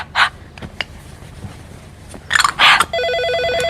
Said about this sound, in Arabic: هو لسه في ناس بتتصل على تليفون البيت؟